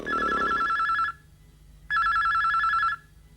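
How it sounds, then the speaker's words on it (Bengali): A telephone bell rings in two loud, steady bursts about a second long, separated by a short pause, in a Bangla drama scene. "ক্রিং ক্রিং ক্রিং বেজে চলে ফোন"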